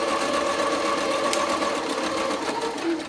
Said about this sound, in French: Je continue ma piqûre jusqu'au bout.